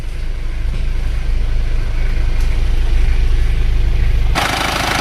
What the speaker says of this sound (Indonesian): Suara mesin seperti ini.